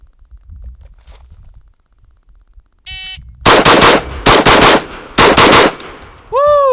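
Rifle fire from a Tavor SAR during a timed shooting drill: four rapid strings of loud, sharp shots in quick succession, separated by brief pauses, preceded by a short electronic timer beep and followed by another beep.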